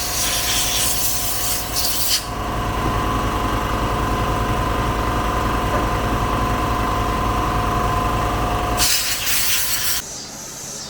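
Compressed air blasting cleaned carburetor parts from a Cub Cadet SC 500z mower, a loud steady hiss in two short bursts at the start and near the end, with a lower continuous rumble in between.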